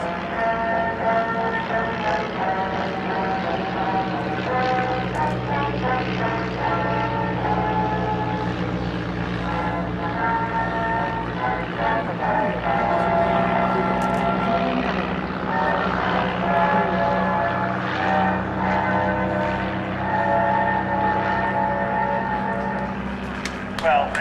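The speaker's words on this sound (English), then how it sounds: "flying machines climb up for altitude" Tiger Moth and Great Lakes biplanes climb for altitude at Old Rhinebeck, their propeller engines producing a sustained, loud droning roar that stays steady throughout with a faint voice beneath.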